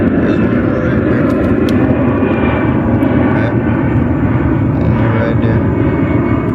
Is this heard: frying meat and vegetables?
no